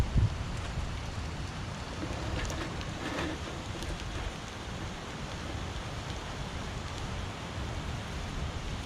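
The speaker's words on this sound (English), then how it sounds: "You can see it there, burning away lovely, that." Homemade wax burner fuel flaming on a Bushbox XL stove at an outdoor day camp, with wind blowing the flames about: a faint, steady rushing hiss throughout, with no talking.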